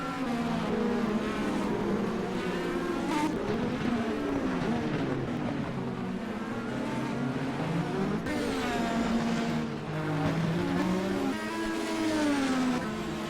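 IndyCar race cars at the Long Beach Grand Prix street circuit, engines whining and revving through gear changes as cars pass close by, a continuous loud racing drone with pitch sweeps up and down.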